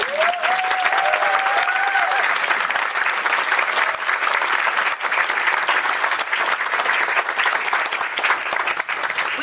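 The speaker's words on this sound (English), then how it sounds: "Can I get a round of applause?" A congregation applauds at a church installation ceremony, producing loud, dense, sustained applause that fills the room for the whole stretch. A voice rises briefly above the clapping near the start.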